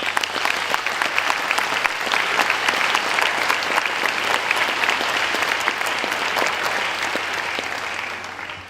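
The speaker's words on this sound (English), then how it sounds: "give you a round of applause for your appointment" A crowd applauds with sustained, dense clapping for several seconds before it begins to taper off.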